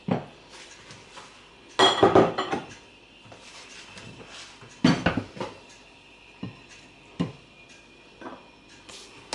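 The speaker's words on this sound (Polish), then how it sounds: "teraz śmietanę łączę z serkiem" Whipped cream being combined with cream cheese in a bowl for a rum cream cake. Irregular clinks and knocks of a utensil against the bowl come in a few louder bursts among lighter taps, with no voices.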